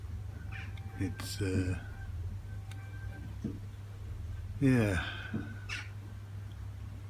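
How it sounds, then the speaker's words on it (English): A few harsh crow caws ring out outdoors in two short bursts over a steady low hum, with a brief spoken remark nearby. "now the crows are having a go."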